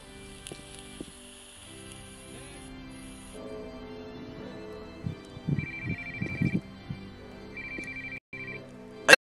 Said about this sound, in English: Turn off your fucking phone!